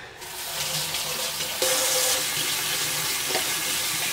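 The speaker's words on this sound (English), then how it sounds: "I'm just gonna wash my hands." A kitchen tap runs steadily while someone washes their hands. The water flows loud and close for the whole time, with a brief splashing change partway through and no speech.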